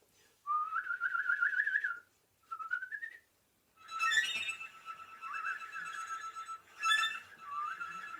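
Someone whistles bird-like trills and chirps in several short bursts with pauses between, clear and close, imitating birdsong.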